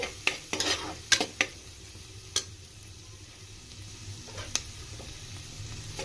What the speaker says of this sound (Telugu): ఇది మీడియం ఫ్లేమ్ పెట్టి ఫ్రై చేసుకోవాలా